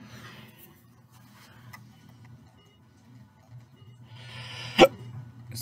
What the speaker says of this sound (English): Sorry about hiccups, guys.